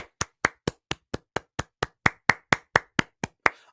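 One person claps his hands slowly and deliberately, about fifteen crisp, evenly spaced claps, close and alone with no talk.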